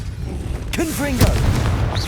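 Confringo, a fire-blasting spell in Hogwarts Legacy, bursts out as a sharp booming impact followed by whooshing, warbling magical tones amid combat noise; a voice is heard calling out around it.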